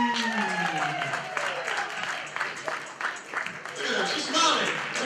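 An audience applauding students at a school awards assembly, a burst of clapping that swells, fades and swells again while a person speaks over it.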